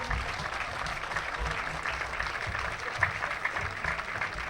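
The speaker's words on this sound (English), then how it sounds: "Give yourself an applause for all these wonderful players that we brought in here today." Crowd applause at a collegiate summer league baseball all-star game, a steady wash of outdoor clapping that sounds somewhat distant and diffuse, with a few sharper claps near the end.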